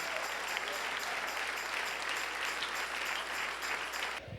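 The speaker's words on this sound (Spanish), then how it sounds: "Dale un aplauso al Rey en esta hermosa mañana." A church congregation claps in loud, steady applause during a morning service, sustained and even until it cuts off abruptly at the end.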